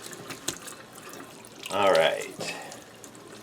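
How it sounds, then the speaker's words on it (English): Tap water runs briefly into a sink while tie-dyed fabric is rinsed, a short close splash and gush in the middle, with a voice speaking a single word. "and then I'll do some more rinsing."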